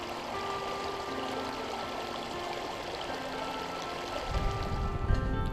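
A river stream flowing beside a bikepacking campsite in Shawnee, a constant broad rushing wash with a brief heavier splash near the end.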